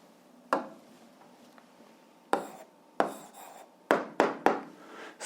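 A pen scratches out the answer to an eighth-grade algebra exercise in short, separate strokes, with about six brief scratchy bursts spaced by quiet pauses, close and fairly soft.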